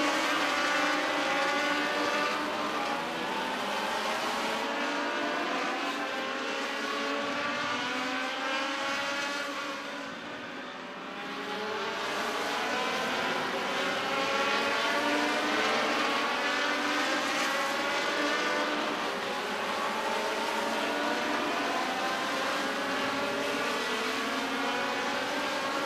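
410 sprint cars roar around Midvale Speedway, a continuous high-pitched engine wail that swells and fades as the pack circles, briefly dipping before surging again, heard from a distance.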